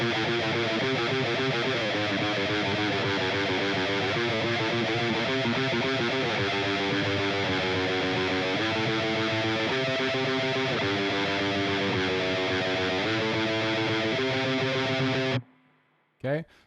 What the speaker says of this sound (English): Now we're on to the main riff, which sounds like this.